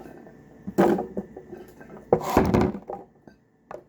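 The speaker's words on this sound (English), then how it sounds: "I'm going to throw these in the blender. I have a Vitamix here, so I'm going to throw these in." Solid food chunks drop into a Vitamix blender jar, making two distinct clusters of hard thunks and clinks against the container, close and fairly loud in a quiet kitchen.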